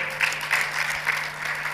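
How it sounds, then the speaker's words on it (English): Audience applause at a talk on smart villages and Africa's digital transformation, a steady patter of many hands clapping with rhythmic swells, moderately loud with a faint hum beneath. "Applaudissez-le encore."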